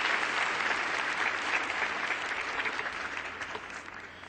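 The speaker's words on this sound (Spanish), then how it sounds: "Demos un aplauso al señor Michio Kaku." Sustained applause from a debate audience welcoming Professor Michio Kaku at CDI 2010, a dense, steady clapping that fills the hall and tapers slightly toward the end, with no speech over it.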